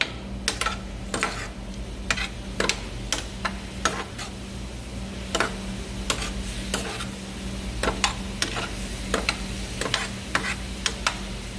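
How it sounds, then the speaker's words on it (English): Food sizzles steadily in a pan on the stove while a utensil scrapes and taps against it in irregular strokes during stirring, close and clear, with no talking. "we're gonna give it a nice little stir"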